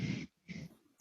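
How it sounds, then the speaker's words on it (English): Loud breathing comes through a voice call during a tabletop role-playing session: two close, rough breaths separated by a short pause, heard alone. "I hear loud breathing"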